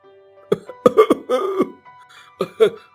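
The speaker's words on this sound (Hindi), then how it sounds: "कारखाने की जहरीली गैस के धुएं से आपकी खांसी हर एक रोज बढ़ती जा रही है" A person coughs in a series of harsh, rasping bursts, a cluster of several coughs followed by a pause and two more, close and fairly loud.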